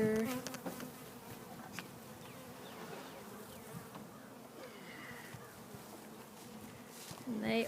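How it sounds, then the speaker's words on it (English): A dense, steady buzzing of a large bee swarm flying around a cedar tree nearby, continuous throughout with no voices. "here's the swarm of bees right here."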